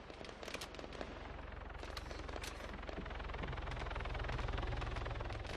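Rapid scattered gunshots from a rifle fitted with a red dot sight in the Arma 3 combat game, crackling in quick bursts over a steady low engine-like rumble.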